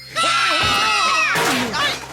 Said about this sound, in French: je ne veux plus entendre de cris